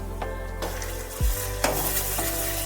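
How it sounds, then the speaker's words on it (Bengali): Chopped onions sizzling and frying in a pan while cooking poppy seed chicken (posto chicken), a steady close hiss broken by a couple of brief stirring scrapes, with no voices. "পেঁয়াজটা কিন্তু দেখো ভাজা ভাজা হয়ে গেছে, একটু লালচে লালচে হয়েও গেছে।"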